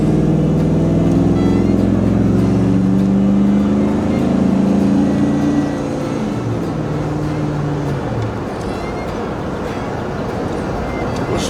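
A Chevrolet SSR roadster is driven, with its engine droning loud and close inside the cabin as it accelerates, the low tone rising and shifting for several seconds before settling into a steadier road rumble.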